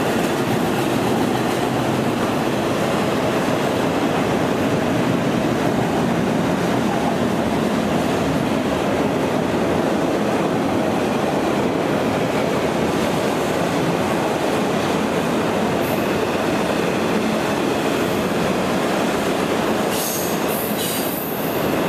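A long freight train rolls past close by with a loud, steady roar of wheels and rail noise that lasts throughout, and brief wheel squeals near the end.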